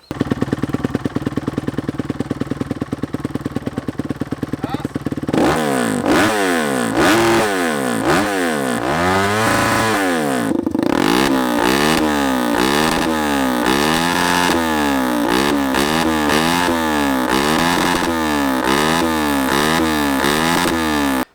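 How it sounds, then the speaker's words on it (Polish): Off-road motorcycles rev loudly nearby on a trail, a steady engine drone at first, then repeated rising and falling throttle blips with harsh, buzzy exhaust that continue without pause and stay loud throughout. "w terenie najgłośniejsze są właśnie motocykle"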